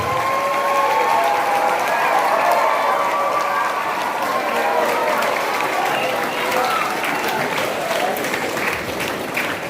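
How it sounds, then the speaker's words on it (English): A large audience gives a sustained round of applause at a school award felicitation for a student placed seventh in the board exam toppers, dense clapping filling the whole stretch with a voice speaking over it. "A huge round of applause as KHARMYNDAI is being conferred with the awards."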